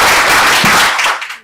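Audience applause for a guest speaker at a Korean network business event, loud dense clapping that holds steady and then tapers off toward the end.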